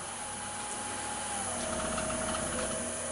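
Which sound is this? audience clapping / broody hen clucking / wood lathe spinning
wood lathe spinning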